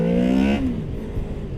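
A Honda VFR motorcycle accelerating hard, its rising engine note climbing for about half a second before a gear change drops the pitch, then continuing to pull away, close and loud with no talk.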